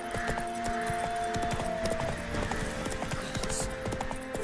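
Roach the horse in The Witcher 3 clip-clops steadily on hard ground, a close and even run of hoofbeats lasting throughout with a faint jangle of tack.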